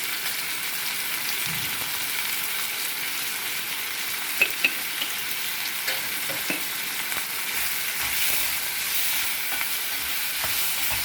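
Tomatoes fry in a pan with salt and tamarind for a chutney, giving a steady bright sizzle throughout, with occasional soft clicks and scrapes from stirring.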